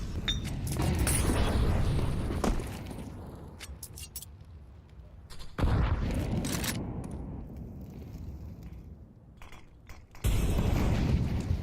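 Grenade blasts in a Counter-Strike match at BLAST Premier Open London: three loud, sharp booms spaced several seconds apart, each fading into quieter ambient game noise, with no voices.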